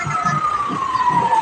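A fire truck or ambulance siren at a basketball parade sounds one loud, close, sustained wailing tone that slowly drops in pitch over a low background murmur.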